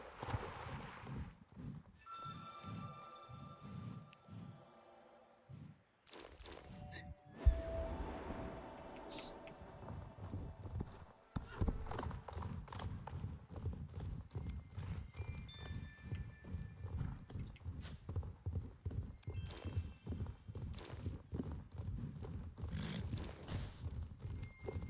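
In the video game Star Stable Online, a shod horse's hooves clip-clop in a steady rhythm that keeps going. There are a brief pause and a whinny in between, and then the trotting picks up again, loud and close.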